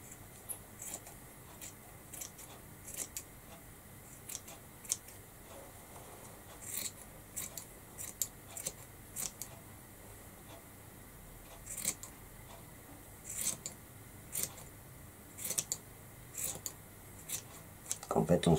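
Scissors snip through a rag doll's yarn hair, giving a long run of quiet, sharp, irregular cuts that come in small bursts, close by.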